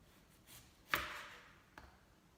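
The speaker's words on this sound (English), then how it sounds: "So I'm gonna go ahead and chop those up." Mushrooms chopped with a knife on a board, two faint, distinct cuts about a second apart, the first sharper and louder, in a quiet kitchen.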